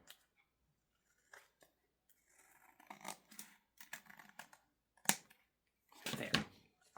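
Fabric being trimmed with scissors during a craft project, heard as scattered crisp snips and rustles, sparse at first and then denser clusters of cutting and handling noise, close and fairly quiet with no talking.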